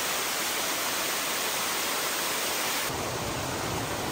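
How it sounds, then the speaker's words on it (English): Beaver Brook Falls on Mount Moosilauke roars as a dense, steady rush of falling water, heard loud and close without any talking. "here's a higher view of Beaver Brook Falls as we continue going up Mount Moosilauke."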